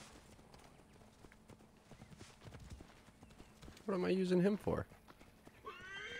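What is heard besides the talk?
horse clip-clop and neigh in Assassin's Creed Origins video game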